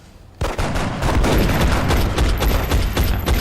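Overwatch reaction fire erupts in the video game XCOM as a whole squad shoots at once. After a brief lull comes a loud, dense burst of overlapping gunshots that rattles on without pause.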